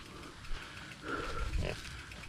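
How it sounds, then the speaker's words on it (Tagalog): A native pig grunts close by at a farm or trail site, a few low, rough grunts rising in the middle over outdoor background noise. "Baboy na native oh."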